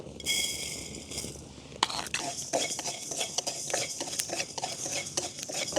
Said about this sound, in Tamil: வெந்தயம் நாங்கள் ஒரு ரெண்டு கரண்டி அளவில் எடுத்து வச்சிருக்கிறோம் அதையும் வறுத்தெடுக்க போகிறோம்